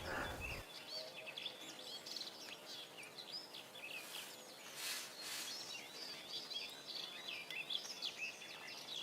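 Birdsong in a scrubby hedgerow of brambles, hawthorn and wild raspberry, nesting habitat of the red-backed shrike and barred warbler, with several overlapping chirps and trills at moderate distance over a steady outdoor background.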